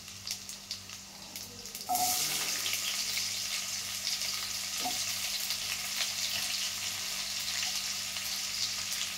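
Garlic frying in oil until golden brown, beginning with a sharp hiss as it hits the pan and then settling into a steady, bright sizzle that runs close and continuous.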